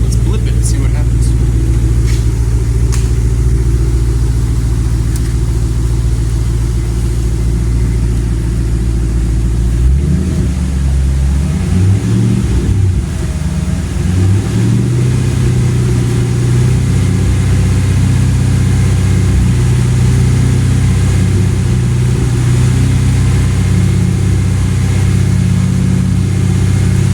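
A 2007 Roush Mustang engine dumping fuel, idling with a loud low rumble before throttle blips send it revving up and settling back, close and steady, with talk over the engine.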